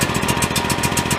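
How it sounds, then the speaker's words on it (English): A small, slightly smoky generator engine idling with no load, a close, steady rapid chugging pulse that repeats evenly throughout the short stretch. "It's just kind of idling right now."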